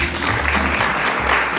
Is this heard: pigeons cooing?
no